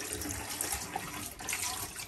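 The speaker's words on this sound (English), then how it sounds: "Let me do the cold tap." Cold water tap running steadily into a kitchen sink, a continuous close splashing rush with no break.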